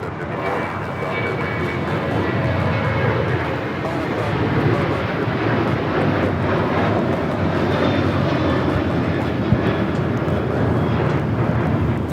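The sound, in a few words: United Airlines Boeing 737-800 taking off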